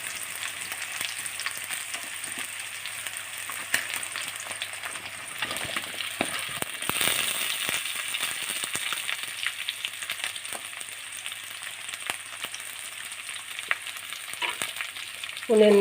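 Onions frying in oil for mint pulao sizzle steadily in a pan, a continuous hiss with intermittent scraping from stirring, close and even throughout, ending with a brief louder clatter.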